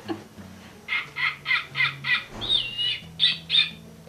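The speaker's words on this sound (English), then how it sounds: "It is a snowy owl." A snowy owl gives a run of repeated, evenly spaced hoarse squawking calls, about ten in a row, fairly close, with a low hum underneath.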